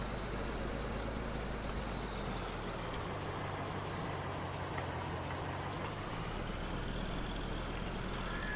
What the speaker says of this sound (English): the sound could be a little bit better of this truck